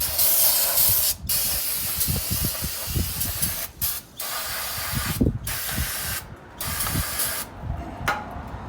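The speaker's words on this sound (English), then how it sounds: "Spray everything off." An aerosol brake cleaner sprays in long hissing bursts onto a 2011 Buick Enclave's brakes, washing off brake dust, separated by short pauses, close to the microphone, with faint clicks of the nozzle between bursts.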